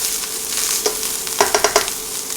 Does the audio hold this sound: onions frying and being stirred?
yes